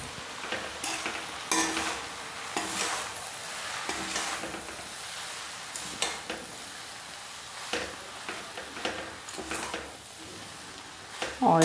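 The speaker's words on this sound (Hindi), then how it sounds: "और इस तरह से चला लेंगे।" Veg chowmein with soy sauce is tossed and stirred in a frying pan. Repeated bursts of scraping and clattering utensil strokes ride over a continuous close sizzle.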